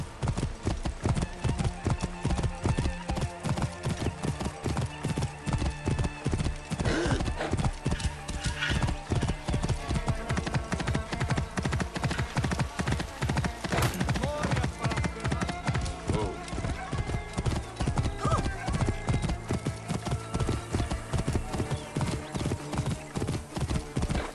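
A horse gallops in Assassin's Creed Origins, with fast, steady hoofbeats throughout, loud and close, plus a neigh partway through and voices heard at times.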